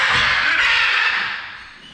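A large bird lets out a loud, harsh cawing call up close, fading toward the end.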